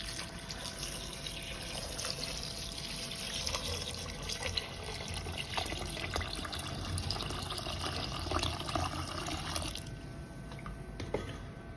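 Steady running water pours into a cooking pot, a continuous splashing trickle with a few clinks, fairly close and with no talking.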